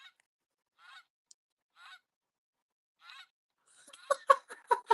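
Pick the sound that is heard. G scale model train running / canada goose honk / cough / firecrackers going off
canada goose honk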